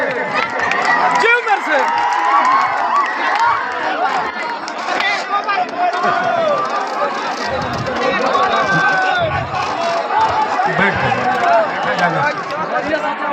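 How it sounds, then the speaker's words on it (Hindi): Loud, dense crowd noise at a Bhojpuri stage show where Pawan Singh is honoured with a silver crown, a steady roar of cheering and chatter from a packed audience throughout, with swells of clapping and shouts. "आप जोरदार तालियों से स्वागत और अभिनंदन करेंगे।"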